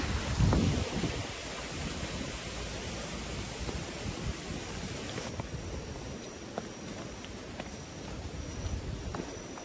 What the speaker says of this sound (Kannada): ಸೊ ಇಲ್ಲಿ ಒಳಗೆ ಒಂದು ಹಿಡನ್ ಫಾಲ್ಸ್ ಅದ, ಕಾಣವಲ್ತ, ನೀರು ಬರತ್ತದ.